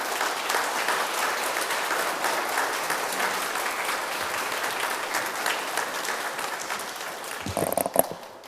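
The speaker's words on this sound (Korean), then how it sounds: "이제 나오실 때 하나님께 감사하며 찬양을 올리는 그런 뜨거운 박수로 맞아 주시기 바랍니다" A church congregation gives a long, warm round of applause during a Sunday service to welcome a pastor, the steady clapping filling the hall before tapering off with a few clattering knocks at the end.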